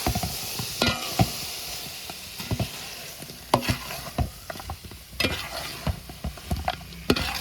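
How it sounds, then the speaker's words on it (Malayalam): A spoon stirs fried tuna through thick masala sizzling in a pan for fish perattu. Irregular scrapes and knocks against the pan ring out over a steady bed of frying hiss, close and alone. "നല്ലപോലെ ഒന്ന് ഇളക്കി കൊടുക്കുക,"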